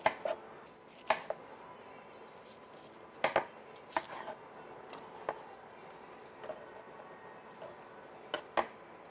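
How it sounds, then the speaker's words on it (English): A knife cutting through bread on a board, producing sharp, irregular chops and taps spaced a second or two apart, fairly close and with no voices. "I'm gonna also cut some bread up also."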